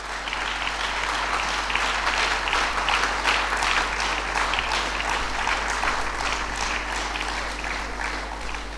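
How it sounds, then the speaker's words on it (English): Steady crowd applause fills a mother's 94th birth anniversary celebration, dense and even from start to finish with no talking over it. "let us give a big round of applause for ourselves"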